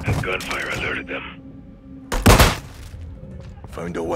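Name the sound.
gunfire in video game Modern Warfare 2 campaign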